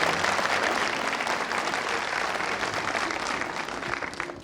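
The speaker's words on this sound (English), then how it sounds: "Round of applause, ladies and gentlemen." Audience applause after a rapper's performance on a televised South African debate show, a steady dense wash of clapping from a studio crowd that holds evenly for several seconds.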